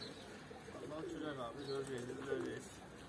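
A pigeon coos softly in a quiet room, a few low warbling calls rising and falling over about three seconds with faint background noise.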